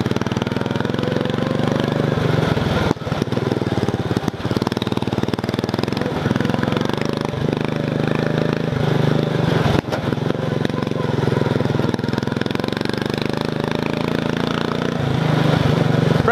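Racing lawn mower engine runs continuously and loudly up close during a disc brake test, a rough steady drone with a couple of abrupt dips and mechanical clunks.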